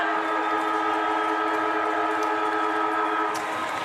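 A long, steady siren sounds loud and sustained at the end of an Australian football qualifying final, a harmonic-rich wail holding its pitch before starting to fade.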